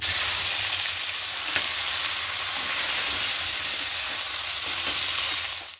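Chopped tomato hits hot oil with bay leaf in a pan for a vegetarian cabbage dish, giving a loud, steady close sizzle that hisses continuously before fading at the end.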